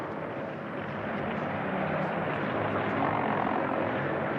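Steady propeller plane engine drone from the Berlin airlift, a continuous broadband roar holding at moderate level throughout, with no voices over it.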